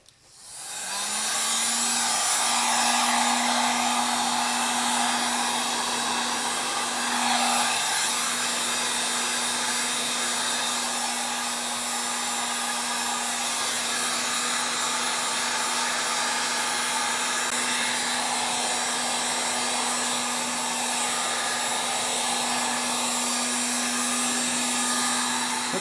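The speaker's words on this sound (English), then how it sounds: "I'm using a heat gun, but I have it on the very lowest setting you can get" A heat gun set to its lowest setting warms guitar binding, producing a steady, loud fan roar with a constant whine that starts abruptly and runs unbroken for about twenty-five seconds, with no talk.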